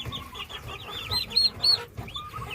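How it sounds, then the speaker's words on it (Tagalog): Chicks and chickens on a farm, with repeated high peeping chirps and soft clucks close by in quick uneven bursts. "Yung mga manok natin. Yung sisiw niyan."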